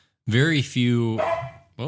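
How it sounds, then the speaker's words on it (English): A dog barking nearby, two loud drawn-out barks followed by a shorter yelp, with a voice speaking briefly at the end. "dog's barking. That's my dog."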